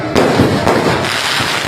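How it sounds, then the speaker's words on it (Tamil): Firecrackers burst at a temple festival during a Chitra Pournami kavadi procession, with loud dense crackling and sharp bangs packed close together and heard near. "மேல இருந்து வெடி அடிக்கிறாங்க பாருங்க"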